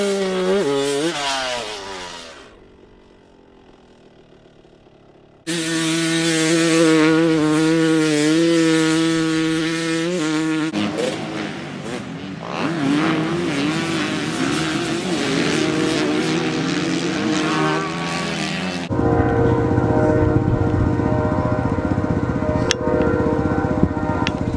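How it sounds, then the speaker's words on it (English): Pit bike engine revving hard and high while drifting, a loud buzzy whine rising and falling through shifts with a brief drop, then sustained close revving with no talk. "you're drifting everywhere like Ronnie Mac"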